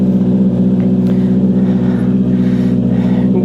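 A Honda CB650R motorcycle engine idles while warming up, a steady, low rumbling drone that holds an even level throughout, close and fairly loud.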